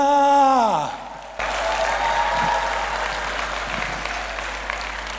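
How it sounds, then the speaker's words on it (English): A falling tone and a short gap give way to steady applause from a large conference audience, sustained and even, with a faint murmur underneath. "Keep clapping for the next speaker."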